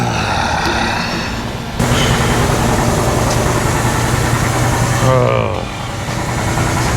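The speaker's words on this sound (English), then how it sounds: "Sorry about that compressor. It's going to run." An air compressor runs in a garage where a Suburban is being primed, giving a loud, steady mechanical drone with a brief dip in level partway through.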